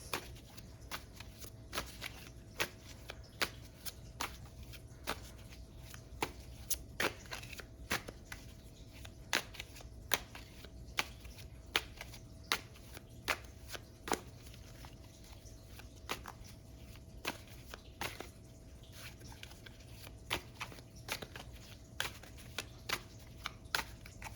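Tarot cards being shuffled by hand: a long run of soft, sharp riffling snaps and slides in an irregular rhythm, close and fairly quiet over a low steady hum, with no talking.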